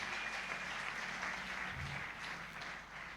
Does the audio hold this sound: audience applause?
yes